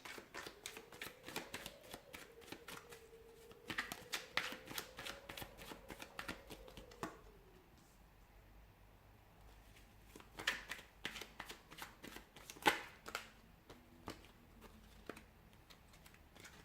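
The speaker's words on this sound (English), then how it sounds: "We'll give the cards a shuffle and see what's coming up for you." Tarot cards are shuffled by hand in a quiet room: bursts of soft riffling and patter come in uneven runs with short pauses, close and fairly faint.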